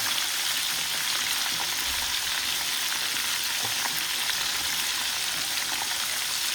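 Food sizzles and crackles steadily in a hot pan after being flipped, a dense continuous frying hiss with small pops, close and even throughout.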